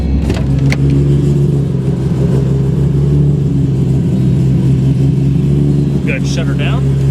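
A 1997 Nissan Skyline GT-R V-Spec R33 idles steadily with a loud, close, deep engine and exhaust drone, a continuous rumble that never breaks, with a brief higher whine near the end.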